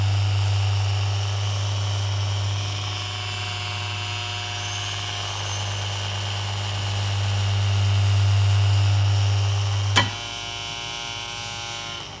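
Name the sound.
small air screw propeller pushing magnetic river linear motor model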